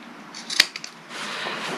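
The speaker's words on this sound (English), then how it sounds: "you're just going to clip these 2 corners, making sure not to snip through any of that sewing" Scissors snip the corners of a sewn fabric patchwork tote bag, giving a few quick, close, faint clips over a quiet room hiss.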